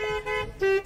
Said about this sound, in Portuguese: Continua buzinando.